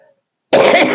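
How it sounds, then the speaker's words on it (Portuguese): A single harsh cough from an adult with a congested chest bursts out loud and close after a moment of silence, then rasps on to the end. "desculpa, mas eu vou ter que tossir"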